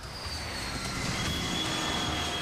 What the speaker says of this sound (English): this radar-jamming EA-6B Prowler.